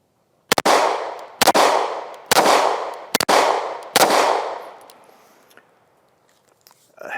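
AF-1 Strike One 9mm pistol fired outdoors: five sharp, loud shots spaced about a second apart, each trailing a long echoing decay, followed by a faint tail and a couple of light clicks.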